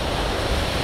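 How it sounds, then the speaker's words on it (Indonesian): Big ocean surf waves at Dampar beach on Java's south coast, a steady broadband roar with some wind buffeting, brief and loud with no voices. "Tantangannya ombaknya lumayan besar"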